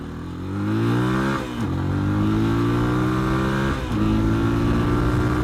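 A close Shineray Tricker 250 motorcycle engine revs up hard, its pitch climbing and dropping sharply at each of two gear shifts before rising again, heading uphill.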